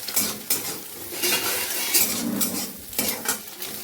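Onion and chilli hit a pan and are stirred, a loud close scraping and clatter of a utensil over a soft underlying sizzle, with several sharper knocks.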